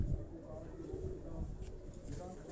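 Pet pigeons coo softly at a home loft in Quetta in the evening, low murmuring calls close by with a faint background hum.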